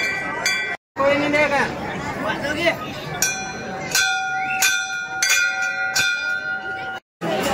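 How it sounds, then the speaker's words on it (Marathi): Temple bells ring repeatedly at a Shiva temple, bright clanging strikes with long metallic sustain, several in a row amid crowd chatter and voices nearby. "घंटा वाजूया, घंटा"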